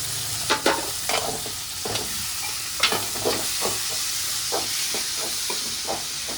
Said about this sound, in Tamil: தக்காளி தானே வதக்குற?